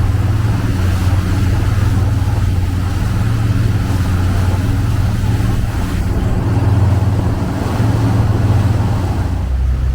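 A Tollycraft 34 Sport Sedan with twin Cummins engines cruises across English Bay near Vancouver at about 2200 RPM, its steady low engine drone mixed with continuous water rush and wind noise, with no talking.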